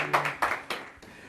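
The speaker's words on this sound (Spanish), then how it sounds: "Un gran aplauso para él." A few separate claps from an audience at a design school event in Concepción sound in a short, sparse burst, close and moderately loud.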